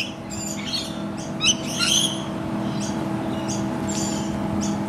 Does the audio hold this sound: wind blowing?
no